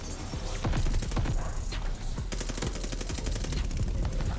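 An M1928 submachine gun fires in Call of Duty Vanguard, with rapid bursts of automatic fire repeating loudly and closely through the whole stretch and only brief pauses between them.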